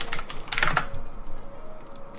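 Quick bursts of clicking keystrokes on a computer keyboard, close and crisp, with a dense flurry early on and then sparser taps.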